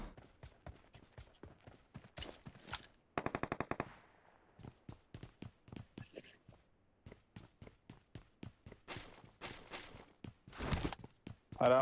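Rapid gunfire in the mobile battle royale game PUBG Mobile, with sharp single shots, fast automatic bursts and nearby footsteps, loud and close, with no one speaking.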